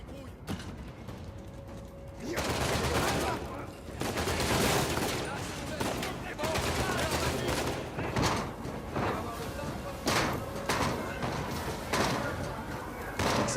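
Uncharted 4 gameplay fills with dense gunfire, bursts of rapid shots and clattering impacts over a continuous noisy backdrop, with a player's voice occasionally audible beneath.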